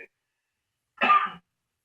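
A single short cough, close and clear, after a moment of silence.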